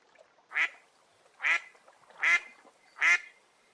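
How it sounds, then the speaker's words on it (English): A duck gives four evenly spaced, nasal quacks, close and clear against near silence. "Mother Duck called, "Quack, quack, quack, quack,""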